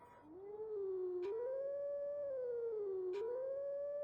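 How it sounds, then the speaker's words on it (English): A wolf in the video game Twilight Princess howls a song, a long, sustained, wavering howl that rises and falls in pitch with brief clicks, heard alone and fairly close. "I'm trying to remember how to Howl the Sun song."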